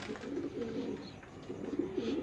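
A breeder pigeon coos softly in low, rolling repeated phrases, faint and fairly close, with no other sounds intruding.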